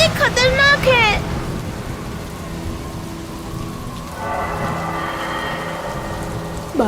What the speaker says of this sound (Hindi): ये तूफान बहुत ही खतरनाक है।